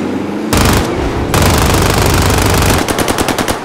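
Loud automatic gunfire in Call of Duty Warzone on the Caldera map: dense sustained bursts of rapid shots with a short gap, ending in a distinctly stuttering volley, with no talk.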